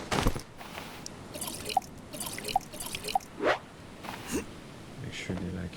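Water dripping and splashing onto crops while they are watered in the survival video game Stranded Deep, soft repeated drips and a brief pour, faint under a speaking voice.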